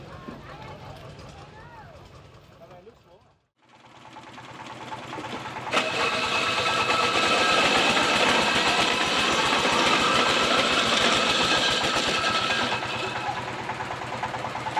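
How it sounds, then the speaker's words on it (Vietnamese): An ice crushing machine grinds block ice for fishing boats at a seaside harbour. A quieter engine hum comes first, then after a brief dip a loud, steady mechanical roar and grinding holds to the end. "người dân đang nghiền đá để cho các tàu thuyền mua đá mang ra biển"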